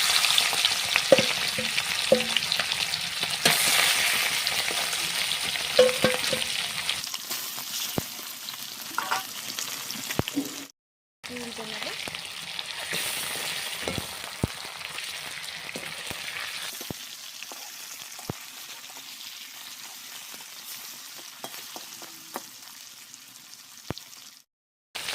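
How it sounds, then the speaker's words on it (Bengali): Sating fish frying lightly in oil, a constant crackling sizzle close to the pan with occasional clicks of a utensil, briefly cut off midway and then resuming at a slightly softer level. "খুব কড়া করে ভাজলে কিন্তু হবে না এটা হালকা করেই ভেজে নিতে হবে"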